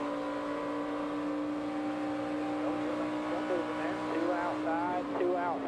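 Onboard engine sound from Dale Earnhardt Jr.'s NASCAR race car at the 2011 Coke Zero 400, a sustained high engine drone with rising and falling pitch sweeps late on, as if others pass close.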